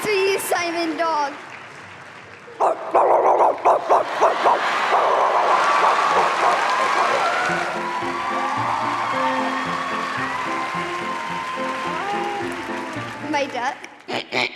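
On a televised talent show stage, a man imitates a dog barking with his voice, giving a run of short yips and barks over loud audience applause and cheering that swells and then fades.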